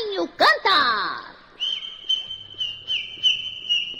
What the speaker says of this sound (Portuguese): E o passarinho cantar.